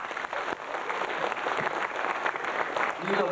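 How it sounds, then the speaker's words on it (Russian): An audience at a concert claps, a dense steady wash of applause filling the whole stretch at moderate level, with faint voices mixed in beneath. "Не надо много хлопать"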